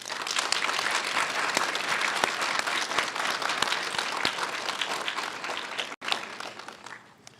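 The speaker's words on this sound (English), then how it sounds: "Please thank these wonderful people with a round of applause." Sustained applause from an audience at a nursing convocation ceremony, with dense steady clapping lasting about six seconds, then briefly dropping out, returning, and fading away.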